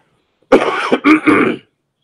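A single loud, close throat clearing, a raspy rumble lasting about a second with a brief break in the middle, then silence.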